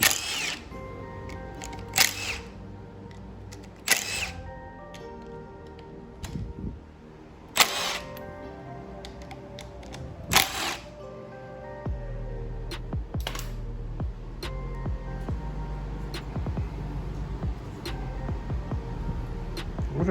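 An E10 socket works bolts loose on a Mercedes-Benz ML320 (W163): scattered sharp clicks and ratcheting taps, with a few louder bursts early on, then a steady low rumble underneath, all close by.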